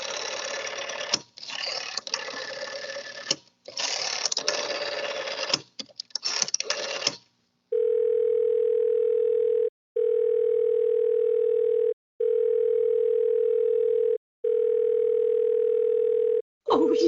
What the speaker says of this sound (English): You may dial that number direct.